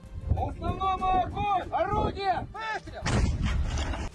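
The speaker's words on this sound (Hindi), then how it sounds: "एक सैनिक का इशारा मिलते ही तोप से हमला कर दिया गया।" A voice talks over a rumbling background, then a heavy artillery cannon blast bursts out with a broad, roaring boom near the end.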